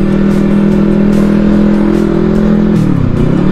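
A Honda CBR motorcycle engine revs loudly up close, holding a steady high buzzing pitch before the revs drop off sharply near the end, with no speech over it.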